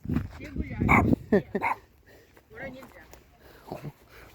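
A dog barks and yips a few times in close, short bursts, with softer whimpering noises afterward, while someone talks nearby.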